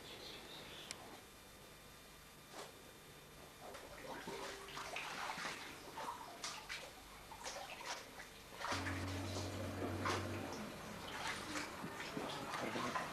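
Water sloshes and splashes in a cave pool as divers gear up with tanks, regulators and mouthpieces, with intermittent knocks and a low hum; moderately quiet, no speech.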